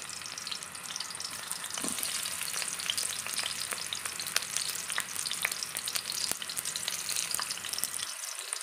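Garlic sizzles steadily in a hot pan alongside onion while pork steak is cooked for lunch, a continuous close frying hiss with occasional light scrapes and clicks and no talking.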